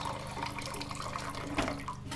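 Water running steadily from a tap into a sink, a quiet continuous splashing flow with a brief louder gush near the end, heard alone without talk.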